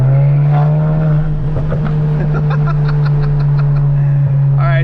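Big turbo VW GTI accelerating hard in third gear with rolling anti-lag, a loud steady engine drone rising in pitch alongside popping, crackling bursts; a voice talks over it.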